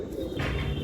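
A pigeon coos in a loft housing Giribaz pigeons, a soft low throaty call heard close by over a constant background murmur.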